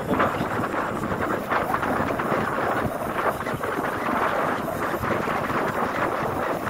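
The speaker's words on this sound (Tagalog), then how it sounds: "Oh, sarap ng hangin." Steady wind buffets the microphone with a constant roaring rush, loud and continuous throughout with no other clear sounds.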